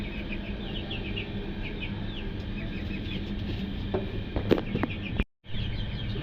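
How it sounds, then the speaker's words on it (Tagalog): Chicks cheep in a coop, high thin peeps repeating in quick clusters over a constant low hum, with a brief louder burst of calls and a short dropout near the end. "So ayun ang ating mga sisiw,"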